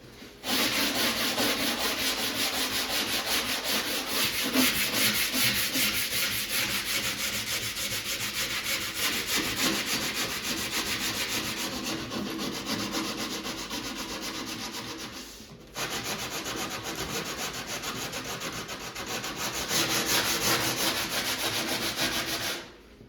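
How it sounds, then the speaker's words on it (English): Sandpaper is worked by hand along the laminate edges of a Wizard of Wor arcade cabinet, a steady, close rasping rub that runs continuously with one brief break. "Now I'm going to sand this on the video the whole time, just to give you guys an idea about how long it takes to go around these edges."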